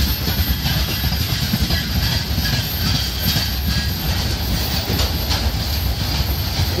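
Two freight trains roll past a level crossing in India one after another, a loud close rumble with rhythmic clickety-clack of wheels on rail joints and occasional metallic squeal throughout.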